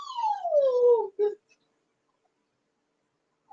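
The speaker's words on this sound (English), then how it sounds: "Oh, little dog." A small dog gives one drawn-out whimper that slides downward in pitch, ends with a short yip, and then falls silent. It is close and clear, with no talking.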